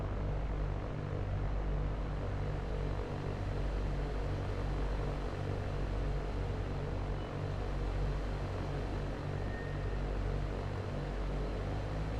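Cessna 172 propeller engine at takeoff power in a flight simulator game, a steady loud droning hum with a strong low rumble, unbroken throughout.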